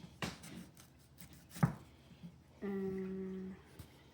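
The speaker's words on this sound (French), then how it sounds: "on va prendre un des couteaux, puis on va couper les bouts qui sont comme ça" A knife cuts through bologna, giving a couple of sharp, isolated knocks on a cutting surface in a quiet room, followed by a steady humming tone near the end.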